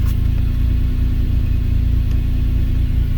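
A Subaru EZ30D flat-six engine swapped into a Volkswagen Vanagon idles steadily and smoothly, a constant low drone heard up close without any revving.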